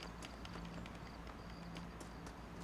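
Horse hooves clip-clop in a video game, a rapid run of sharp hoof strikes at an even pace over a steady low background hum, with no talk.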